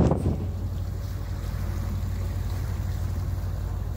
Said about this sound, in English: Pretty good chop coming in out of Douglas Channel with the outflow wind